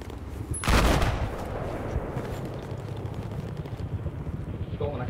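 A loud gunshot cracks out, then a dense rumble of continuing gunfire and explosions in Battlefield 4, steady and fairly loud.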